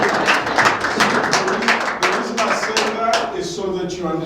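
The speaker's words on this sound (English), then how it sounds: "So that calls for a round of applause." An audience at a business masterclass gives a round of applause, a dense patter of many hands clapping with a voice talking over it and fading in and out.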